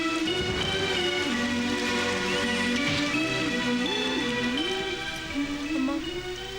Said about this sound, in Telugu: అన్నయ్య వర్షంలో తడిచిపోతున్నాడమ్మా